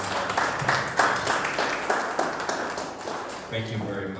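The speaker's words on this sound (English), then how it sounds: "Another round of applause for our Managing Director." Dense applause from a crowd, continuous clapping that fades slightly before a voice begins speaking near the end.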